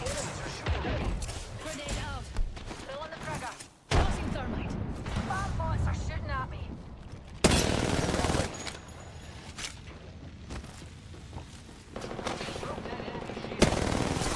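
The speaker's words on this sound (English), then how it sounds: "they'll shoot at me" Rapid bursts of automatic gunfire and explosions fill a battle in the video game Apex Legends, dense and loud throughout, with a player talking over the shooting.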